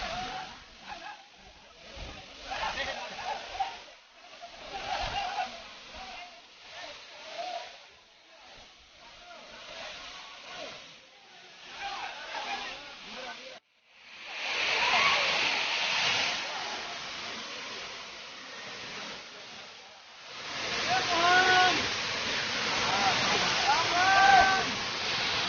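Katiki waterfall in Araku, a broad rushing roar of falling water that fades back and surges louder in later stretches, with people's voices heard over it in the quieter early part.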